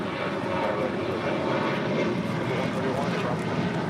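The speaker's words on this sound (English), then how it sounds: "This is Alaska 1332 departing to Loretto on a 737-800." An Alaska Airlines Boeing 737-800 jet airliner departing at LAX, its continuous engine roar holding steady at moderate distance while voices are heard faintly beneath it.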